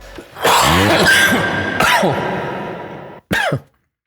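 A rough throat clearing that drags on for a few seconds, then one short, sharp cough after a brief pause, close and loud.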